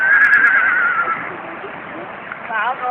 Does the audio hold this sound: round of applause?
no